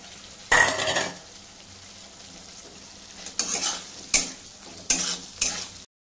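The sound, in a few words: potatoes frying and stirred in spice masala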